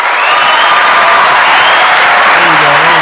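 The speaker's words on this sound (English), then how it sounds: "Where's you gonna play the applause button for yourself?" Canned applause and cheering from a soundboard button at a casual Thanksgiving gathering, a loud, dense burst of clapping and whoops held for about three seconds, with a voice audible near the end.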